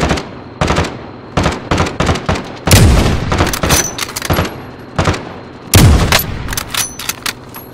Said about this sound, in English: He's shooting at me, so take your shot.